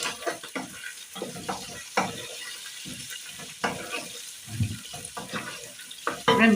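Washed rice being stirred with salt in a pot while beef pilau cooks, irregular scraping and wet churning strokes up close with soft watery sloshes and a brief clatter near the end.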